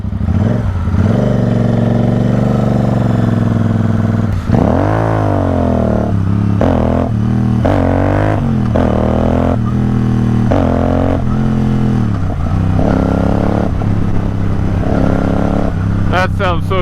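A custom Royal Enfield Interceptor 650 parallel-twin motorcycle engine revs loudly up close, its deep burbling idle rising and falling through repeated throttle blips and a longer climbing rev, with a rider's voice briefly heard.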